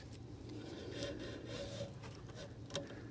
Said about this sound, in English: Just drag it along and it'll separate.